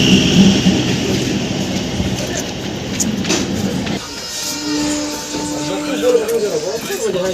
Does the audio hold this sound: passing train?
yes